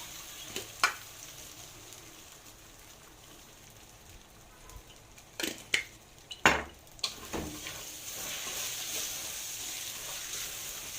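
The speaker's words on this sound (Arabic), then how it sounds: "هنغلف كده الرز بالماده الدهنيه" Rice coated in fat is stirred in a cooking pot, a faint background sizzle broken by a few sharp clanks and scrapes of a utensil against the pot.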